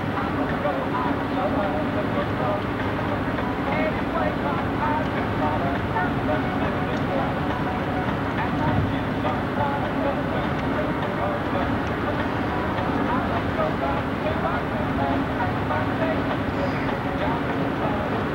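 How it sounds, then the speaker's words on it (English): A long freight train with two cabooses rolls past, a continuous steady rumble and rail clatter that holds evenly throughout, heard from nearby outdoors. "There goes a train that way with the two cabooses on it."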